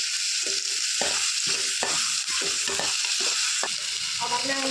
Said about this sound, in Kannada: ಇದೆಲ್ಲ ಹಸಿ ಸ್ಮೆಲ್ ಹೋಗೋ ತನಕ ಚೆನ್ನಾಗಿ ಫ್ರೈ ಮಾಡ್ತೀವಿ